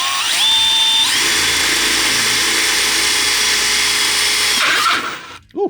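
A power drill whirs loudly at high speed, its pitch rising as it spins up, running steadily for several seconds before winding down and stopping.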